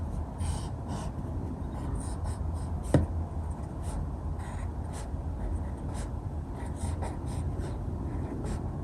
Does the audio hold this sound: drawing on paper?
yes